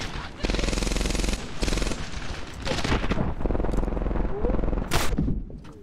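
Dense, sustained automatic machine gun fire in a video game, loud and continuous with brief gaps and a sharp burst near the end, layered over other game noise.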